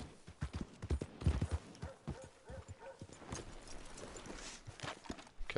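A horse in Red Dead Redemption 2 clip-clops along in an irregular run of hoofbeats, fairly close, with a snort or whinny mixed in and game ambience behind.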